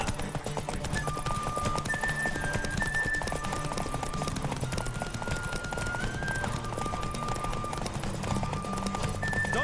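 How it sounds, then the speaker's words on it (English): Rapid rhythmic hoofbeats of a horse galloping in The Witcher 3: Wild Hunt, a steady close clatter running throughout with a sustained musical tone drifting above it. "Don't spare the horse!"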